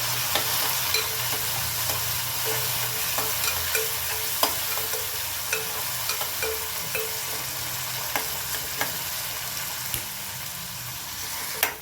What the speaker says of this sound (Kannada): ಇವಾಗ ಸಣ್ಣಗೆ ಹೆಚ್ಕೊಂಡಿರೋ ಟೊಮೆಟೊ ಹಾಕೋತೀನಿ ನಾನು